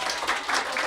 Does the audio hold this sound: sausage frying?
no